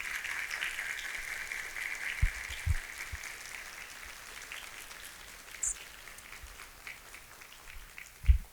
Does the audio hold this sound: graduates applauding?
yes